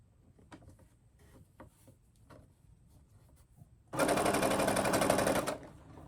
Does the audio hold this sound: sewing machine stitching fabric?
yes